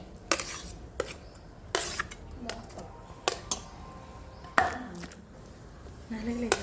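Ridge gourd is pounded in a stone mortar with salt, tamarind, garlic and cumin for a village-style chutney: sharp, close knocks and scrapes that come irregularly, about six distinct strikes with softer grinding between them.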